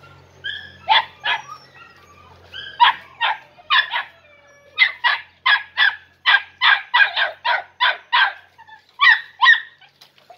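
A litter of Andalusian podenco puppies barks up close in rapid, repeated high yips that come in quick clusters and keep going almost without pause.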